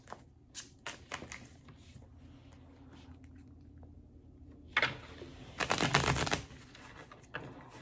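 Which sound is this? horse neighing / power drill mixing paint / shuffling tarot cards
shuffling tarot cards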